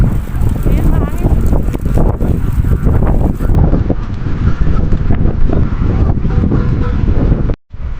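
Loud, steady wind roaring across the microphone near a swimming pool, buffeting and rumbling continuously with a brief dropout near the end.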